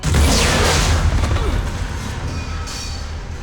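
A bomb blast in Mass Effect 3 erupts with a loud, heavy boom at the start, then a broad roaring rumble and debris noise that stays loud and slowly settles over a few seconds.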